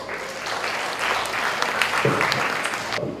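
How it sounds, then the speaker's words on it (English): An audience at a student colloquium on public service claps warmly for two presenters being called up, a dense burst of steady applause lasting a few seconds before it tapers off. "Let's give them a warm applause."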